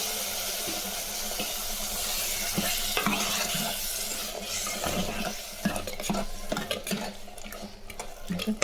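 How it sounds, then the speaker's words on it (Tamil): Cooked lentils go into a pot of simmering sambar with brinjal, drumstick and raw mango, followed by continuous spoon stirring, scraping and soft sizzling, with occasional sharp utensil clicks against the pot. "நம்ம வேக வச்ச பருப்பு இதில் சேர்த்துக்கலாம்."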